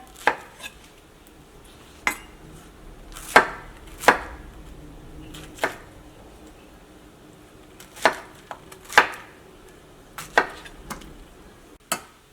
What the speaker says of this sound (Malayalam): ആ പൈനാപ്പിൾ നമ്മൾ ക്ലീൻ ചെയ്തെടുത്തിട്ടുണ്ട് ഇത് ഞാൻ കുറച്ച് ചെറിയ പീസായിട്ട് കട്ട് ചെയ്തിട്ട്